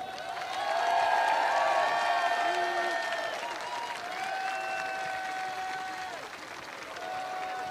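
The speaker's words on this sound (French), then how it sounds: "Je vous demande d'applaudir Claire Fortassin, Louise Paternoster" Applause from an audience at a French political rally fills the space, a dense sustained wash that swells early and then holds steady, with tonal music or feedback lines and scattered voices running through it.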